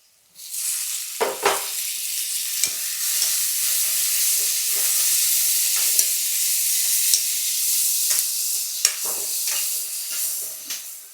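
Tomatoes hiss and sizzle as they fry with wilted onions in a hot pan, a steady loud crackle with occasional scrapes and clacks from stirring, no voices.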